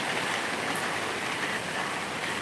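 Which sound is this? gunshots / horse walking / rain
rain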